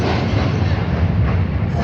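Loud, continuous rumble of a train rolling past close by on the Hardinge Bridge at Pakshi, a heavy rushing roar filling the whole moment.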